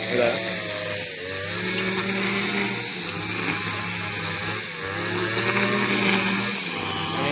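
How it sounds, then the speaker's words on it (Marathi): A petrol grass cutter clears ground in rural Konkan, its engine droning steadily with a few small dips in pitch and load, loud and close throughout. "ग्रास कटरचे मशीन मारतोय पूर्ण प्लेन करण्यासाठी"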